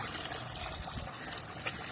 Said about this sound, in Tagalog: dagdag tayo ng tubig